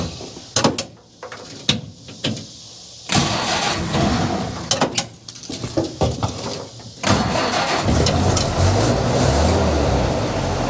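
An engine cranks in several short bursts after carburetor work, then catches and settles into a loud, steady idle close by, with clunks and a door-like thump between attempts.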